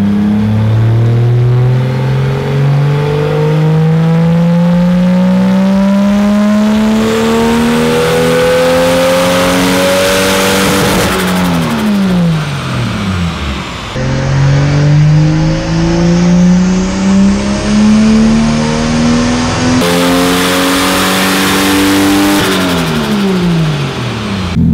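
A turbocharged Toyota Supra with an eBay turbo is run hard on a dyno, loud and close, climbing through two long full-throttle pulls that rise in pitch before dropping back, with no talk over the engine.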